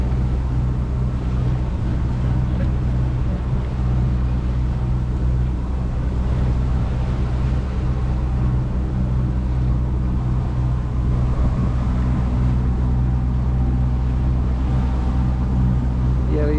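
A sailboat motoring on its engine along the Portuguese coast at around six knots gives a steady low drone, with wind noise over it the whole way through.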